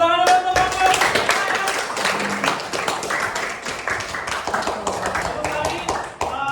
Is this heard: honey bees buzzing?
no